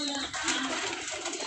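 Racing checker pigeons coo softly amid a dense, continuous layer of background noise, the calls short and overlapping across the brief moment.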